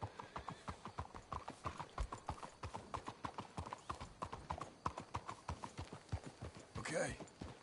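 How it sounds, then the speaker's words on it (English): Horses' hooves clip-clop in a steady, even rhythm on a trail in the video game Red Dead Redemption 2, close and continuous, with a brief whinny near the end and faint voices talking. "Let's hitch the horses up ahead."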